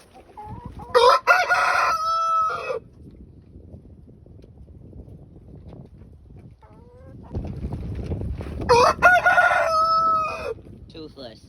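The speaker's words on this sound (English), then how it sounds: "I'm out here to feed the chickens" A backyard rooster crows twice, loud and near, several seconds apart. Between the crows, low clucking from the flock and steady outdoor wind noise fill the gap.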